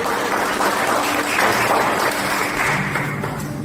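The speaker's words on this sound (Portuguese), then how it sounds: "Aplauda Jesus." A church congregation at a worship service claps together, a broad, continuous rush of applause filling the room, with a faint hum beneath.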